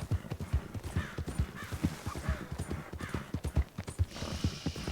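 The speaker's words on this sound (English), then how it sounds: "my horse is not going to be able to run the whole way" A horse gallops in the Red Dead Online western video game, its hooves pounding in a fast, rolling rhythm, close and loud, with faint outdoor background sound around it.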